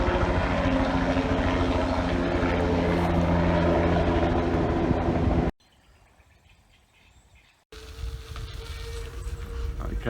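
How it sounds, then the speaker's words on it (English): Crop duster helicopter spreading super fertiliser over farmland along a rail trail, a loud continuous rotor and engine roar close by that cuts out briefly, then returns. "here's a crop duster helicopter."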